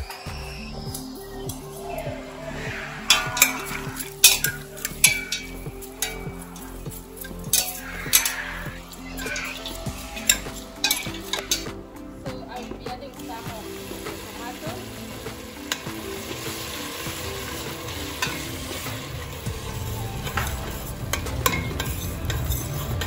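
Onions frying in a pan are stirred over a long stretch. A spatula scrapes and taps irregularly against the pan, with occasional clinks, over a continuous sizzle that grows fuller toward the end. Speech is faint.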